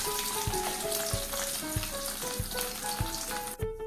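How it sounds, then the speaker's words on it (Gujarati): Potato pieces frying in hot oil for a curd potato curry, a dense continuous sizzle heard close up, with regular soft knocks from stirring and no one talking. "બટેટાના ટુકડાનો કલર ચેન્જ થઈ જાય અને આ રીતે થોડા ફ્રાય થઈ જાય"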